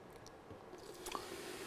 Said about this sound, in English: I'm going to pour a little vinegar on top of the baking soda, and there's going to be a chemical reaction.